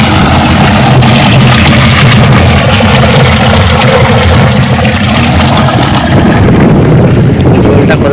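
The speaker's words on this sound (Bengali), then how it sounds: "দেখো ওখানেও জল আসছে, ফুল স্পিডে জল আসতেছে।" Water rushing at full speed through a channel on a farm in Gujarat, a steady loud broadband roar that stays constant throughout, with wind buffeting the microphone.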